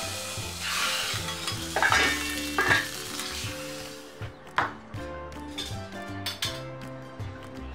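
Pieces of fish fry steadily in a hot pan, with a continuous close sizzle and occasional clinks and scrapes of a utensil against the pan.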